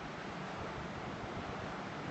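Surf and wind wash across Pirates Cove Beach in New Hampshire as a steady, broadband roar with wind buffeting the microphone, continuous and without voices.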